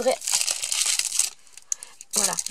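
Loud crinkling and rustling of stiff vinyl wrapping paper from a roll being handled, with a short pause and brief crackles before another burst of crinkling.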